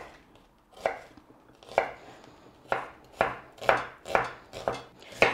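Onion diced with a knife on a chopping board: a slow run of crisp, evenly spaced chops, speeding into a steadier rhythm, close and with no talk.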